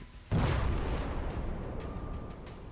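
An FPV drone detonates on striking a Russian tank in Ukraine: a sudden heavy blast at about 0.3 s, then a broad roaring rumble and crackling debris that fades slowly but stays loud to the end.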